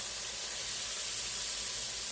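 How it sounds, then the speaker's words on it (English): A steady, loud sizzle of vegetables frying hard in piping hot olive oil, a continuous bright hiss with no pauses. "We're going to get these veggies in that piping hot olive oil."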